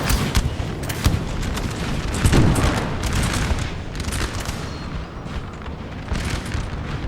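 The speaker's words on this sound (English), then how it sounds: "let the artillery just rip through their ranks" Napoleonic artillery roars across a Napoleon: Total War multiplayer battle between Danish and Swedish armies, with dense overlapping booms and crackling musket volleys that keep up without a break.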